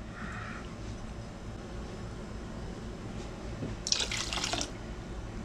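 Filtered water is poured into a crock pot of tomatoes, heard as a brief close splashing pour near the end over a steady low background hum.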